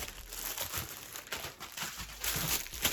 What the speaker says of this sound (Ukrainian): Так, шманаємо пакета.